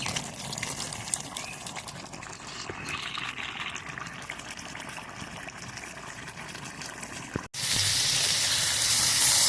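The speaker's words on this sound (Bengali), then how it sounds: "মানে টকবক টকবক করে ফোটে" Goat meat curry simmering in a pot, giving a steady close bubbling and sizzling hiss that runs on, with a brief break near the end before a louder, brighter hiss.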